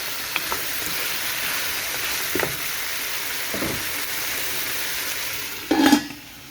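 Pieces of lamb with cardamom sizzle steadily in a hot pan for Bukhari rice, a continuous fry hiss broken by a few faint stirring scrapes and a louder clatter near the end.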